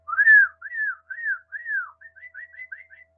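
A bright red songbird, a northern cardinal type singer, gives a clear whistled song alone: several slurred downward notes followed by a run of shorter, quicker chips, near and clean against silence.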